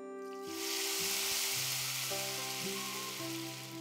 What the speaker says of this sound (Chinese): 加西红柿炒1分钟